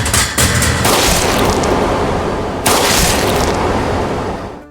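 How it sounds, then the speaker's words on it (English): Gunshots in a zombie horror film, a dense, loud barrage of blasts and rumbling booms lasting several seconds with a sharp renewed burst partway through. "Gunshots rang out."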